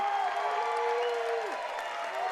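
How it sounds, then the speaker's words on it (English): Applause and crowd noise fill the arena at a college gymnastics meet with Cal, Pitt and Ohio State, holding steady throughout, with a sustained sliding tone running over the clapping. "the crowd's just as pumped about the exhibitions as they are about all of them"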